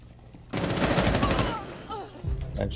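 Rapid automatic gunfire in Rainbow Six Siege, a loud close burst of about a second of fast repeated shots, followed by a brief pause and more game noise.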